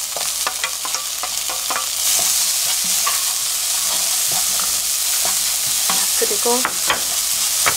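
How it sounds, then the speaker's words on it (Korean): Doenjang paste being stir-fried in bubbling oil with anchovy powder, a dense crackling sizzle broken by sharp scraping stirs of a spatula, close and loud, with a brief word spoken. "이렇게 기름이 자글자글 끓죠."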